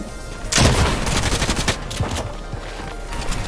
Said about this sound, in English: Go up higher so I can shoot you out the air.